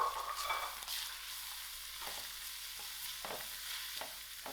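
Ginger, garlic and masala spices frying in a pan, with a steady close sizzle and a few soft stirring scrapes, continuous and moderately quiet.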